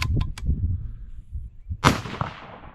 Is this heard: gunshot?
yes